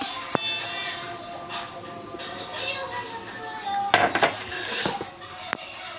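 Dry cake ingredients — flour, starch, baking powder and a pinch of salt — stirred together in a bowl for an orange cake, with light clinks and scrapes of a utensil against the bowl, close up, with a louder clatter near the end.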